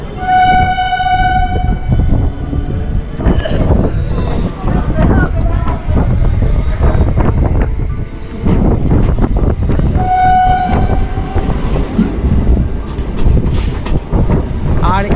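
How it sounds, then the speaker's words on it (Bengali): A local train pulls out of Kankinara station, its rumble and rattling wagons steady and loud throughout, with a horn sounding near the start and again later, while people talk over the noise. "আমাদের ট্রেন কিন্তু কাকিনাড়া স্টেশন থেকে ছেড়ে দিল"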